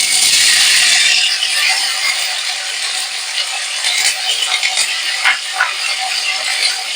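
Paneer pieces fry in hot oil in a wok, giving a loud, continuous hissing sizzle with scattered crackles and pops, with no talk.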